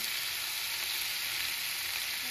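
Cumin and coriander crackle and sizzle in hot oil, a dense, even hiss holding steady throughout with no voices.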